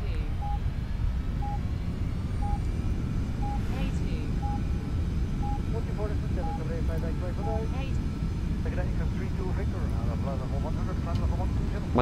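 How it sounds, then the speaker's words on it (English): A Beech Premier jet in a flight simulator game taxis and takes off with a steady engine roar. Intermittent cockpit beeps and chimes sound over it, and no one speaks. "You're clear to taxi to and take off from runway A2."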